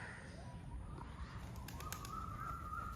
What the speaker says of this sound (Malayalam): ഇത് നമ്മുടെ പ്രാവാണ്